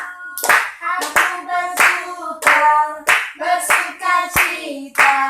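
Group hand clapping keeps a steady beat along to a sung children's worship song at a church holiday Bible school, loud and rhythmic, with the sung melody carrying through between the claps.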